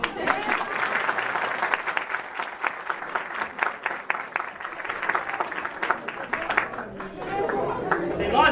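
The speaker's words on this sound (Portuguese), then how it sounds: "Podem bater palmas." Crowd applause at a graduation party, sustained crisp clapping with chatter and voices mixed in, tapering off near the end.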